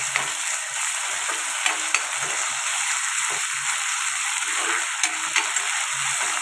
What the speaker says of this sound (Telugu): ఇప్పుడు ఇందులోకి ఒక పెద్ద స్పూను అల్లం వెల్లుల్లి పేస్ట్ వేసుకుందాం ఇది కూడా పచ్చివాసన పోయేదాకా ఫ్రై చేసుకుందాం